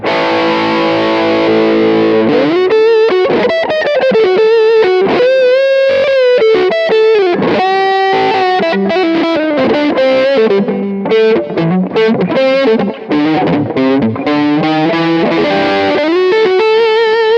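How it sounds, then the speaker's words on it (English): An electric guitar played through a Pride of Texas overdrive pedal, with a gritty, saturated tone, strummed chords followed by a melodic lead line. "Pride of Texas overdrive pedal"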